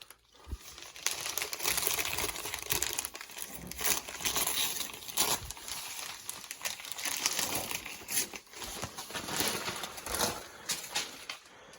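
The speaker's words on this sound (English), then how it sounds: "This is 30-inch wide wrapping paper, by the way." A 30-inch wide wrapping paper sheet used as a shotgun pattern target being crinkled and handled, with continuous rustling and crackling in uneven bursts, close and moderately loud, with no voices.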